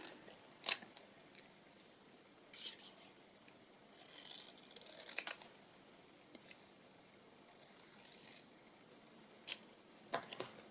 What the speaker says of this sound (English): I'll use my other scissors, I think, just because it'll be quicker.